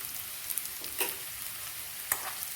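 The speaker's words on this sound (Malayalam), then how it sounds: "ഇതും ചെറുതായിട്ട് പീസുകളാക്കി എണ്ണയിലോട്ട് ഇട്ട് കൊടുക്കാം." Small pieces of tamarind fry in oil for a red chilli chutney, making a soft, even sizzle with a few brief scraping stirs from a utensil and no talking.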